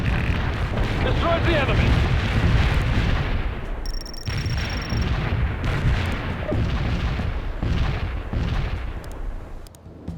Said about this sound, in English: Mortar barrage delivered.